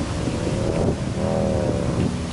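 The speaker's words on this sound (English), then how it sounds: "I did not expect it to be so windy" Strong wind buffets the microphone outdoors at a picnic, a continuous loud rumbling roar with gusty swells and no speech.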